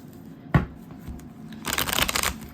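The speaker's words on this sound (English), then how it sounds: "I'm just gonna shuffle a little bit more." Tarot cards being shuffled: a sharp snap near the start, then a dense, crisp riffling burst toward the end, close and fairly quiet with no talking.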